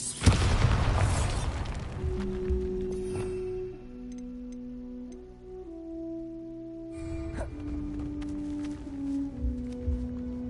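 Bombarda blasting spell detonating in Hogwarts Legacy: a heavy booming explosion at the start, then a low rumble and sustained tonal ringing layered with sparse clicks and a second swell of debris-like crackle.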